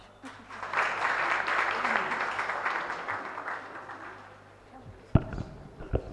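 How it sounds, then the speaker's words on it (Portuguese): Audience applause at a press freedom talk between journalists and students, a dense wash of clapping that swells and holds for several seconds, then fades, followed by a couple of sharp knocks near the end. "Uma salva de palmas."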